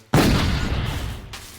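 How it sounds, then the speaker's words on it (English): A single loud shotgun blast in the video game Sons of The Forest, a sharp boom with a long rumbling tail that fades over about a second, no talking. "What are you using shotguns for?"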